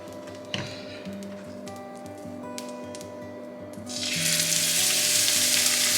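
Food searing in oil in a pan on a home stove, a steady sizzle that swells louder and fuller near the end as more oil goes in, heard alone at moderate level.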